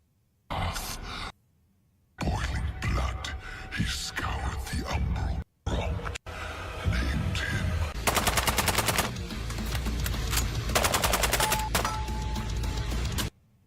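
A semi-automatic shotgun fires in a video game: loud, sharp blasts come in separate bursts with short silent gaps, then faster strings of repeated shots, with a few grunts and other voices mixed in.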